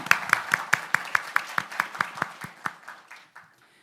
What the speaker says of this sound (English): let's give a round of applause to welcome each other